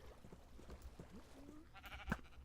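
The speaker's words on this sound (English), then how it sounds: "We can get those other 2 sheep over there." Sheep in the Minecraft video game let out a few faint, short bleats over low background game sounds, with no talking.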